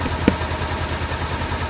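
A motorcycle engine idles steadily with a low, even mechanical rumble and faint clatter, close and continuous, with one small click near the start.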